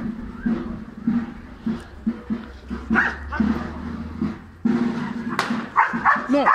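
Dog whimpering and giving short barks amid a noisy crowd at a busy border crossing, the yelps coming in irregular bursts over steady background chatter and a low hum.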